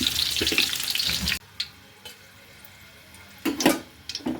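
Raw onion and bay leaf fry in hot mustard oil, giving a loud sizzle that cuts out suddenly, then a quiet gap with faint clinks before the sizzle and stirring return in short bursts.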